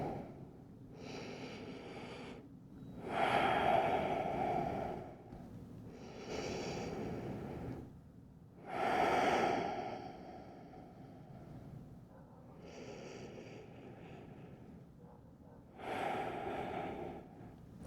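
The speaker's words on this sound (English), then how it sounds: "We'll just take 3 deep breaths here." Slow, deep breathing during a pigeon-pose hip stretch in a gentle yoga session: about three long inhale-exhale cycles, airy and close, each breath rising and fading, with no talking.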